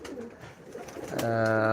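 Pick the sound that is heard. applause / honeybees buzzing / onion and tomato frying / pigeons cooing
pigeons cooing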